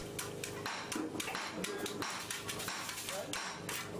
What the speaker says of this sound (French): L'ouvrier l'extrait et casse avec un marteau la gangue noire constituée du borax.